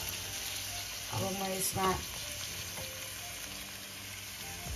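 Soya chunks and chopped medium tomato fry in a pan with steady, fairly quiet sizzling, a brief stirring scrape partway through, while a voice speaks briefly over the sizzle.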